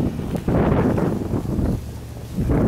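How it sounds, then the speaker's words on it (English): Strong gusting wind during a blizzard in Boston, with 30-mile-an-hour gusts, buffets the microphone in loud, rumbling surges that rise and ease over a few seconds. "The wind's kicking up. There are those 30-mile-an-hour gusts."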